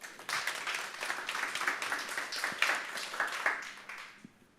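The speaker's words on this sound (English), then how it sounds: "Everybody give Branden a round of applause." A small audience at a mini-talk event applauds a speaker being introduced, moderately loud clapping that builds quickly, holds for a few seconds and then fades out.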